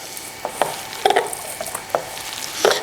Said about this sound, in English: we're going to mix this all together